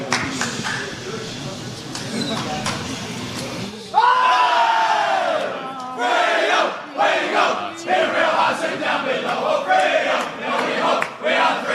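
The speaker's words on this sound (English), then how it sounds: "it's a huge crowd in here tonight after a home derby win" Huge home crowd roaring and yelling after a Fremantle AFL derby win over West Coast, a steady dense din that surges louder and more excited partway through, with shouts rising above it.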